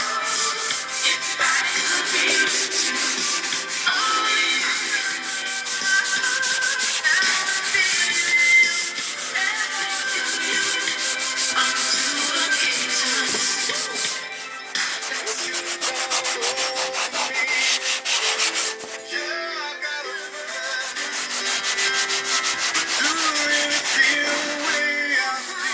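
A Scotch-Brite 07447 pad scuffs the body panels of a Club Car golf cart, a continuous close rubbing hiss with steady back-and-forth strokes, briefly pausing twice, and no talk.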